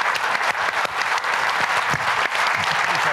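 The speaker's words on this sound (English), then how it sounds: "So, applause, please" Loud, steady applause from a conference audience at a Latin American policy forum, many hands clapping in a continuous dense roar for a few seconds without letting up.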